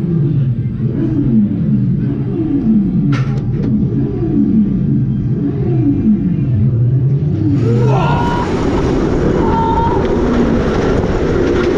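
Velocity roller coaster at Flamingo Land: a loud, steady rumble and clatter of the train running along the track, with rising and falling whines, then a rush of wind noise as the ride speeds up.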